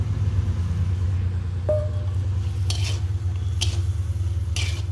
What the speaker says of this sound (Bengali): এটা গরমে গরমে নাড়তে হবে।